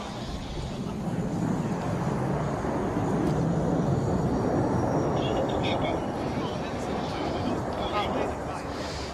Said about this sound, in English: The variable sweep wings allow the pilots to configure the wings according to flying speed.